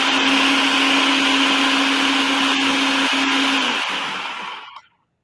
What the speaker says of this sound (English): One more blend for good luck.